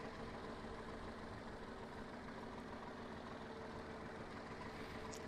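A Big Boy tractor idles in Farming Simulator 19, a steady low engine drone that stays even and unbroken, with no talking.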